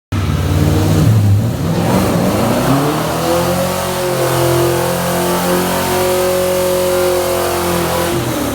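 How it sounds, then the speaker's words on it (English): Rocket Bunny 240SX doing a burnout inside a shop, the engine revving hard and holding a loud, sustained high-rpm roar with rising and falling pitch sweeps and a harsh, gritty edge throughout. "After a burnout in the shop,"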